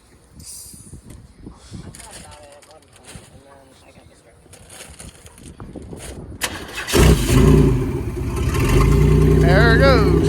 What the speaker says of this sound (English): There's the summer start of a derby car.